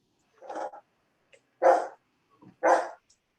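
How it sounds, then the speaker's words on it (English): A dog barks three times during an online public meeting, with separate short barks spaced about a second apart. They sound moderately close and stand alone, with no talk over them. "Whoever has the dog barking, thank you."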